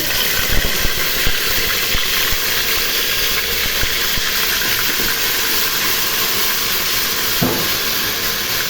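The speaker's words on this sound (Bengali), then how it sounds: "আদা রসুনটা ভেজে নিব।" Ginger and garlic fry in a pan for a beef dish, a loud, dense and continuous sizzling hiss up close with faint scattered clicks and no talking.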